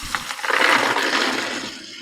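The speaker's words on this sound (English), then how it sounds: "I'll pour them in the colander," Water runs over black beans in a colander in a short, splashy rush that builds, holds and tapers off, with a faint clatter near the start.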